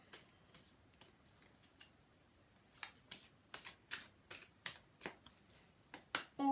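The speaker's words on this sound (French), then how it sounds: "Je vais mettre quand même mes lunettes. Hein. Allez, je remélange une petite fois." Tarot cards shuffled by hand, a run of crisp riffling bursts that start sparse and faint and grow louder and quicker toward the end, close up with no talking.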